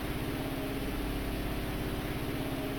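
A throaty vehicle engine in the sandbox building game Anymaker hums steadily at low pitch with a rough, pulsing texture, continuous and fairly quiet, with no talking.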